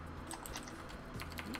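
Quiet, rapid typing on a computer keyboard set at an awkward angle, a short burst of light clicks and taps over a low background hum.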